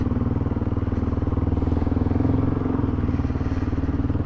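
A motorcycle engine runs steadily and close, its loud rhythmic thrum holding even as the bike rides off, with no talking.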